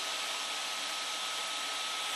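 An Up Plus 2 3D printer runs while extruding filament from its nozzle, giving a steady, loud, even broadband whir with a faint constant tone, close up and without talk.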